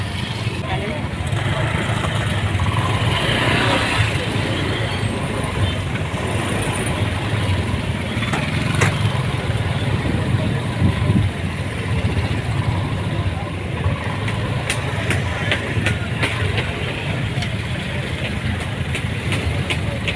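Idling cars and motorcycles sit jammed at a traditional market in Meulaboh, Aceh Barat, a continuous low engine rumble with occasional revving, mixed with crowd chatter and people talking nearby throughout.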